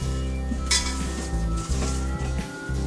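Shredded cabbage being mixed and crushed with salt in a crock for traditional Estonian sauerkraut, heard as close clinks, scrapes and knocks of utensil against the vessel, with no one talking.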